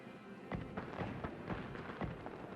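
Fireworks burst over a theme park in the Planet Coaster game, a quick series of about six muffled thumping pops spaced roughly half a second apart, fairly faint against a low background hum.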